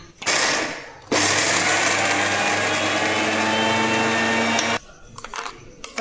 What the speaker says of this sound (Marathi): मिक्सरला बारीक वाटून घेते।